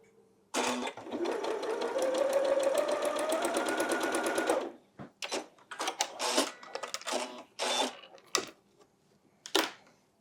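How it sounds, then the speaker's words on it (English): A sewing machine stitches a quilt block for a Farmer's Daughter quilt, running in one steady, fast burst of rapid needle clatter for about four seconds. Several short bumps and clicks follow as the fabric is handled. "Let's just sew this one up real quick"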